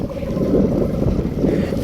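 A speed boat ride on the water at Belur, heard as a steady low engine and water rumble with wind buffeting the microphone, continuous and close, with no talk.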